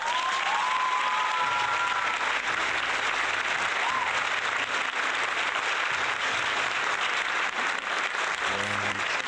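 Dense, continuous audience applause and clapping, loud and steady for several seconds, with faint background tones and a few low sounds underneath.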